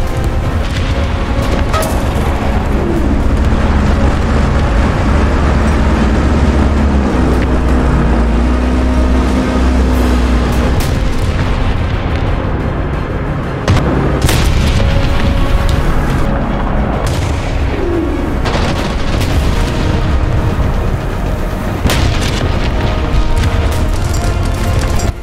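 HE shell explosions from a Soviet KV-2 tank in the World War II ground battle game War Thunder, booming amid constant loud engine rumble and distant gunfire, with a sustained dense roar throughout.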